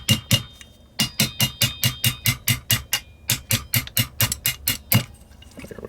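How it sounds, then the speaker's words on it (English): Hammer blows driving out the roll pin of an AR-15 trigger guard: about twenty sharp, evenly spaced metallic taps in three quick bursts, close and loud with no talking. "now we're going to have to drive out our roll pin."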